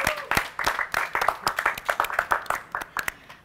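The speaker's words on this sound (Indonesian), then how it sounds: "Keren, tepuk tangan dong." A small group claps for a few seconds, brisk uneven handclaps close by, starting strong and thinning slightly toward the end.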